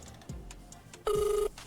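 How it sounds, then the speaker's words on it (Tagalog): A cellphone rings over a loudspeaker during a call-in broadcast, one short bright ringing burst with a steady warbling tone that stops abruptly, after a brief quieter electronic blip. "Nag-ring na."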